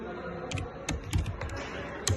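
Fast typing on a computer keyboard while text is entered into a note-taking app, with soft, irregular key clicks and a few louder taps over steady low room noise.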